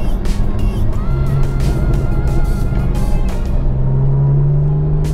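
A Porsche 911 GTS engine drones steadily from inside the car while driving, a loud continuous rumble with rising engine pitch toward the end.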